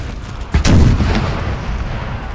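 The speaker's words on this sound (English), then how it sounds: "It will be able to unleash canister" A cannon fires canister shot in a real-time battle strategy game, one sharp heavy boom rising out of constant battlefield rumble and then rolling away into the din.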